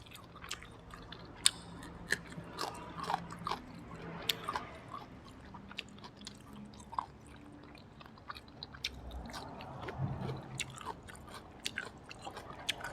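Close, wet chewing and biting on grilled Isan sausage eaten with pickled ginger and fresh chili, irregular crunchy, squishy bites with quiet smacking throughout.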